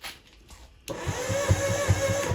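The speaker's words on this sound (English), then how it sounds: "It cranks over really slow because the battery's about to die" A Wave Venture jet ski engine on a nearly dead battery: after a short quiet start, the starter kicks in and the engine cranks over slowly with a sluggish, regular chugging rhythm that stays loud and close to the end.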